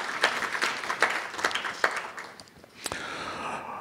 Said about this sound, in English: let's give the Maxine and Jack Zero Family Foundation a round of applause